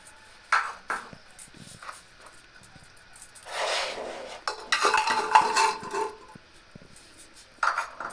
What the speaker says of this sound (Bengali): প্রেসার কুকারের মধ্যে ডাল আমি ঢেলে দেব আর পেঁপেটা দিয়ে দেব।